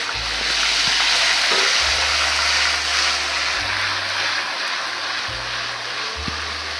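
Cumin seeds and ginger-garlic paste hitting hot oil in a pan, a steady broad sizzle and crackle that stays loud and close throughout, with a low hum underneath and no voices.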